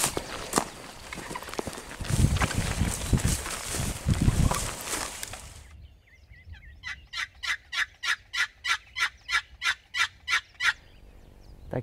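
A wild turkey gobbles after a stretch of rustling and scuffling, followed by a rapid, evenly spaced series of about a dozen loud, close clucks or gobbles in a steady rhythm.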